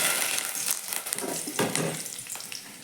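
Cumin, mustard seeds and curry leaves frying in hot oil in a pan, a close, steady sizzle with crackling pops throughout, no talking.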